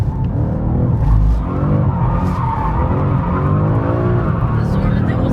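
A BMW M5 CS spins its tires in a smoky burnout, a loud continuous engine roar with skidding rubber that holds steady, while an excited voice exclaims over it.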